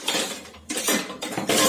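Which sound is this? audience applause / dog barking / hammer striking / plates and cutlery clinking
plates and cutlery clinking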